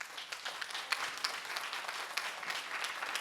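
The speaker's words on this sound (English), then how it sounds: "Please hold your applause." Applause from an audience at a school district board meeting, a steady patter of many hands clapping at moderate volume for a few seconds.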